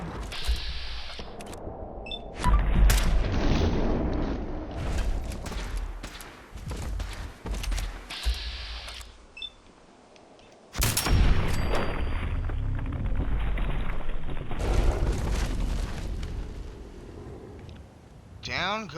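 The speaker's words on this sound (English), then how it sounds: "Well, now who's shooting at what?" Gunfire in the video game Fallout 4 rings out in sharp bursts and booms with mechanical clanks, loud and close, broken by a short quiet gap before dense firing resumes.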